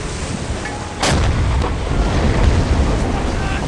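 Deck gun of a submarine in Silent Hunter 5 fires once at a British ship at night, a single sharp boom followed by a sustained low rumble over wind and sea noise.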